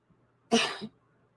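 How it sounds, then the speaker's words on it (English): A single short, sharp cough, close and clear, with near silence before and after. "You coughed wrong."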